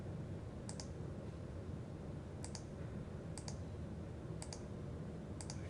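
Five pairs of sharp computer mouse clicks, spaced roughly a second apart, over a steady background hiss while points are picked along a line in CREO CAD software.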